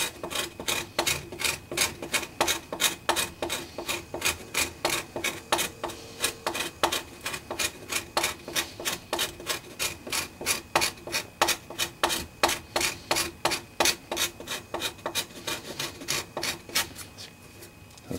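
A hand scraper works a wooden guitar neck in steady, rhythmic rasping strokes, close and fairly loud, repeating evenly about three times a second with no talk.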